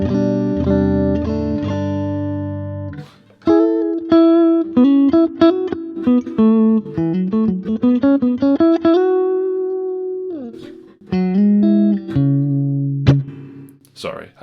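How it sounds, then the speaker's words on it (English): Budget Strat-style electric guitar on the neck-and-middle pickup setting, played clean with sustained chords then a run of single notes and short phrases, bright and close, no voices. "Then position 2, which is the neck and the middle position."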